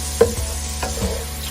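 Bacon grease sizzles in a pan while collard greens cook for a Thanksgiving dinner, a soft low crackle broken by a few brief stirring scrapes and knocks, with no talking.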